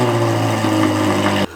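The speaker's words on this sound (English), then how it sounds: "The 458 especially sounded amazing because of the aftermarket exhaust." Ferrari 458 Speciale with an aftermarket exhaust running steadily, a loud close engine drone with a strong low hum that cuts off abruptly near the end.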